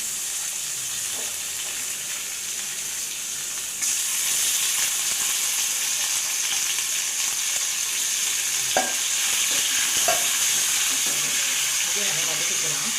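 Chicken sautéing in a pan for a Tamil-style salted chicken curry, a continuous close sizzle and hiss with occasional scrapes and stirring clatter. Partway through the hiss grows louder.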